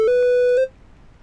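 A micro:bit speaker plays a short electronic melody from its sound editor: a pure, buzzy tone that steps once in pitch, holds for about half a second, then cuts off into quiet.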